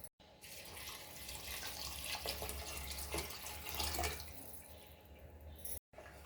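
Water pours steadily into basmati rice in an open pot for a vegetable pulao, a continuous close rushing splash, with a brief break near the end.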